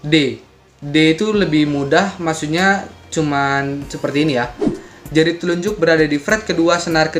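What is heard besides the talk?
No distinct noise like a dog, phone or traffic.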